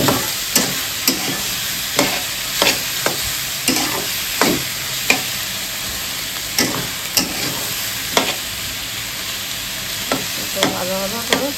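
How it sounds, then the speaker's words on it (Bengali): Onion and garlic sizzle in hot oil for a tempering over Malabar spinach, with a continuous fry and a regular series of sharp spoon-against-pan knocks as the mixture is stirred. "পেঁয়াজ রসুন ভেজে জাস্ট বাগার দিয়ে দিলাম"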